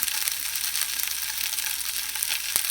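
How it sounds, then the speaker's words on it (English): Scrapple sizzles and crackles in a frying pan greased with bacon grease, a steady close hiss with scattered sharp pops throughout. "I'm just going to sit here and watch Scrapple sizzle."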